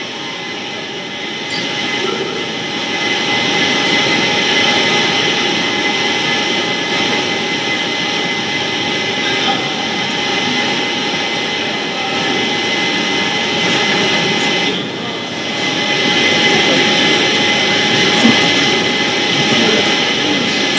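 Electric motor under a 100% load test with an internal short circuit, giving a loud, steady broadband roar and hum that holds for the whole stretch, with a brief dip near the middle and no talk.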